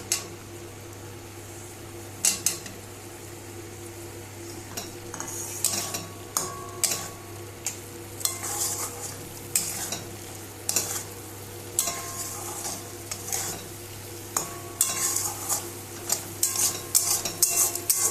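A spoon stirs and scrapes spice masala frying in a little oil in a pan, giving irregular metallic clinks and scrapes over a soft, low sizzle, with no voices.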